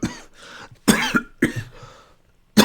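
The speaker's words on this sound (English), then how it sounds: "I coughed so much I got a cramp." A person coughs in several harsh, close bursts with short pauses between, a hoarse throaty hack repeated about four times.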